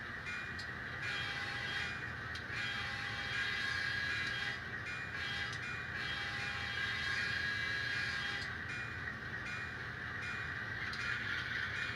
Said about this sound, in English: It's a big train.